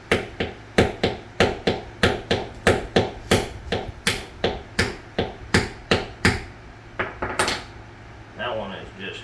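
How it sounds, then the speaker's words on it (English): Rapid metallic hammer strikes on a Phillips screwdriver, a steady run of about twenty sharp clanks close by, then a few irregular knocks and some rustling at the end. "That one is just hammering it down in there."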